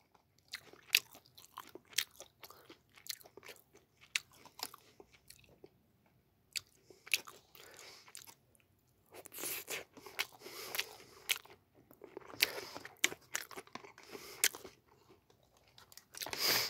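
Eating a military combat ration curry, with close, crisp crunching and chewing bites in irregular bursts, quiet, with no talking.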